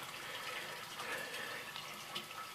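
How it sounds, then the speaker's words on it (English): Water from rice paddies in Thailand runs and splashes in a soft, steady trickle, faint and continuous, with no one talking. "And we can hear the water."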